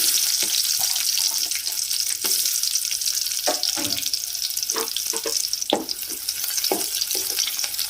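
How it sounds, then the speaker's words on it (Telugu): Onions fry in hot oil in a pan for a chicken curry, giving a steady close sizzle broken by repeated stirring and scraping sounds, with no talking. "కొద్దిగా ఆయిల్ వేడిన తర్వాత ఉల్లిగడ్డ వేసుకున్నామండి"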